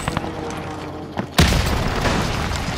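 A launcher explosion in a video game: after quiet background noise and a couple of small clicks, a sudden loud boom hits and leaves a rumbling, crackling tail.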